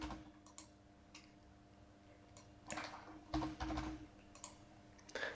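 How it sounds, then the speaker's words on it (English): Keystrokes on a computer keyboard while entering a width value in CAD software, faint and sparse clicks with a louder burst of typing near the end against a steady low hum. "we can just type in whatever width we want"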